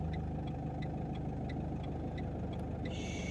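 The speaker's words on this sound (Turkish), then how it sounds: "Motorun sesi değişmeye başlayacak." A car idles low and steady during a clutch-release driving lesson on a test course, with a light, regular ticking over the engine and a slight change near the end.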